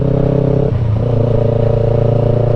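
A Yamaha R25 motorcycle engine drones loud and close at high revs, dipping briefly as it shifts, then pulling on in a steady, buzzing acceleration.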